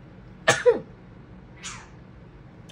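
A short, sharp cat vocalization, a quick yowl or sneeze-like burst, followed by a fainter second cry in an otherwise quiet room.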